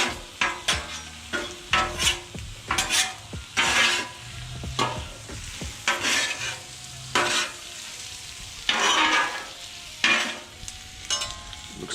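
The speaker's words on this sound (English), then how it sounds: "I'm gonna try to stir that up" A spatula stirs and scrapes General Tso chicken frying on a Blackstone flat top griddle, with a steady sizzle and repeated loud scraping strokes in an uneven rhythm, close by and heard alone.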